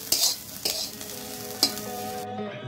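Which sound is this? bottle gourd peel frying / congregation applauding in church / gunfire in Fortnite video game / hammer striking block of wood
bottle gourd peel frying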